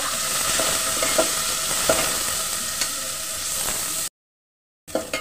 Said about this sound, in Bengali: এখন দিয়ে দিচ্ছি চিংড়ি মাছ, এটাকেও কিছুক্ষণ ভাজি করে নেব।